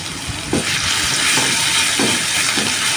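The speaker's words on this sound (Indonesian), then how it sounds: "Mau gongso dulu untuk masak capcay." Ingredients for capcay stir-fried in a pan, a steady broad sizzle running throughout with repeated scraping strokes of a spatula at a loose rhythm, close and fairly loud, with no talking.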